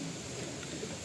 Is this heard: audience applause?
no